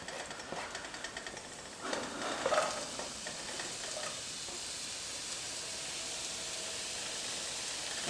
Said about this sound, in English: we're going to saute the garlic, onion, and ginger